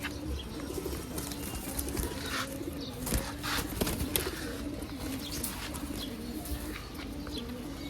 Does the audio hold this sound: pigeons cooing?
yes